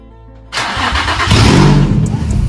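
A Nissan 350Z/G35 with a test pipe exhaust fires up suddenly after a quiet moment, then settles into a loud, close, continuous raspy roar that swells slightly about a second after catching.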